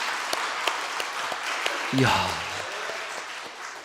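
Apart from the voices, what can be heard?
church congregation applause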